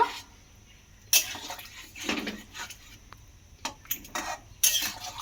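A spoon scrapes and clinks in a pot of lentil, soybean and pointed gourd curry with ghee added, giving a few wet stirring strokes and sharp metallic taps up close.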